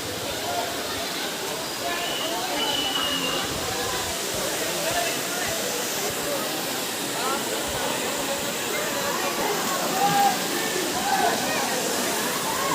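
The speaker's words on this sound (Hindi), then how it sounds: "ये पानी यहाँ से निकल कर जा रहा है, इधर देखिए, इधर जाता है पानी।" Water pours continuously from Bhadwana waterfall in Gwalior, a steady broad rushing roar that stays at an even level throughout.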